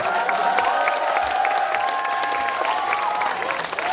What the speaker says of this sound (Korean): 여러분들이 사진을 찍으시느라고 박수를 안 주시는데 박수 부탁드립니다.